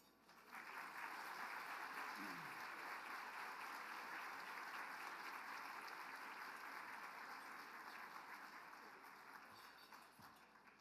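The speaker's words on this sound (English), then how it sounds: "Let's give another round of applause to all of the singers and dancers for that incredible performance." An audience at a summit main stage applauds singers and dancers after their performance, a sustained, dense wash of clapping that swells quickly, holds steady for several seconds and slowly tapers at the end.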